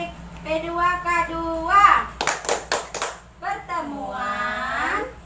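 A group at an Indonesian PKH family-development session (P2K2) claps a quick rhythmic pattern of about half a dozen sharp claps, set between stretches of a woman's raised, chant-like voice.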